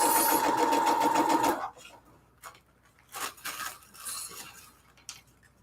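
A sewing machine stitches tiny fabric labels for a sunflower junk journal, running in a loud, steady burst for about a second and a half, then stopping; a few quieter handling clicks and rustles follow.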